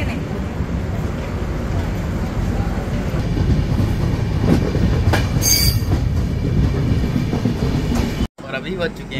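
Mangaluru Central to MGR Chennai Central express train pulling into Payyanur railway station, a steady loud rumble of rolling wagons with a brief high wheel squeal midway, faint voices underneath, and an abrupt cut near the end.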